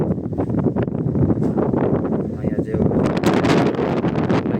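Strong wind gusts across the microphone outside a house on a cold day, a steady broadband roar and buffeting that runs the whole time beneath a person talking.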